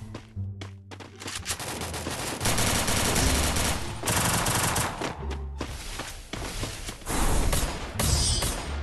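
Rapid bursts of automatic gunfire and single shots with thuds and explosions in Free Fire, loud and continuous with brief pauses, in a game-like mix.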